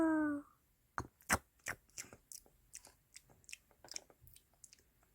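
Crunchy bites and chewing of food during an eating show, a series of sharp, close crunches spaced about every half second after a brief tone at the start, with no talking.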